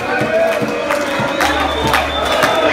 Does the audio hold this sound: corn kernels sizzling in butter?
no